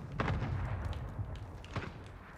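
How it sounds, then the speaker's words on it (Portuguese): An FAL shotgun fires twice in Call of Duty Modern Warfare, two heavy booming blasts about a second and a half apart over low background rumble. "Cara, eu tô surpreendido com essa shotgun, ela é muito forte, velho."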